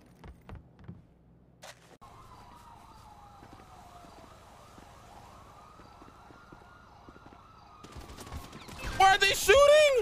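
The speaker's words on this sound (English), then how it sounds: "Why are they shooting?" Gunfire in a video game crackles as a few sharp shots at the start, then a wailing police siren sweeps up and down before a dense burst of rapid shooting, with voices talking underneath.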